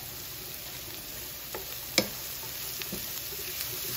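Vegetables softening in a pan, giving a steady, moderate sizzle with a few faint utensil taps and one sharper clink near the middle.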